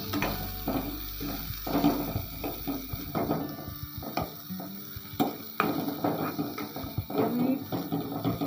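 Chopped onion frying slowly in a pan for a water spinach (kolmi saag) dish: a soft sizzle under repeated spatula scrapes and clatters, close and moderately loud.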